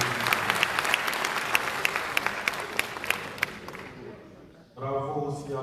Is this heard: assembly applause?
yes